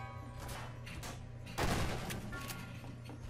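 Shotgun firing in Garry's Mod, a single loud blast standing out against a steady background hum and scattered game noise.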